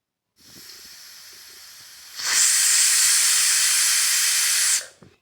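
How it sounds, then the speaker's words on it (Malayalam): A pressure cooker holding carrots and water lets out a faint hiss at first, then a loud, steady rush of steam for about two and a half seconds before it cuts off sharply. "ക്യാരറ്റ് കുക്കറിലേക്ക് ഇട്ട് 1 ഗ്ലാസ് വെള്ളം ഒഴിച്ച് നമുക്ക് ക്യാരറ്റ് വേവിച്ചെടുക്കാം."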